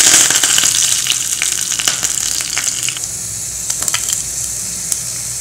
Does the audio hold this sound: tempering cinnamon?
yes